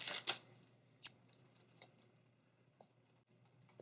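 Scissors snipping through craft material for a fall harvest DIY decoration, a few quiet, sharp cuts spaced apart, close and faint in a quiet room.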